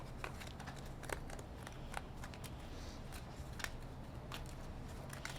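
KeyForge cards are shuffled back into a deck during a tabletop game, giving soft, papery riffles and crisp snaps in short bursts at close range, fairly quiet and with no voices.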